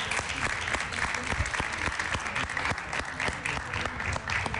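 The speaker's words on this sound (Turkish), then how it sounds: "alkışlarla bir uğurlayalım onu." A live audience applauds steadily, dense clapping filling the space throughout, sending off a young child who has just recited a long poem on a Turkish television program.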